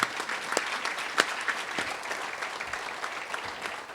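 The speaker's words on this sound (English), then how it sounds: "Let's give him a round of applause." Audience at a press conference applauding, a continuous moderate patter of many hands clapping for several seconds at some distance.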